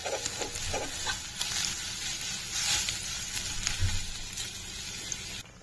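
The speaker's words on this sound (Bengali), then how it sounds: "একটুখানি লাল লাল হয়ে ভাজা ভাজা হওয়ার জন্য আমি ওয়েট করছি" Ground bean paste frying with ginger and garlic in a pan, steady close sizzle and crackle with light stirring scrapes, fairly quiet and continuous, cutting off abruptly at the end.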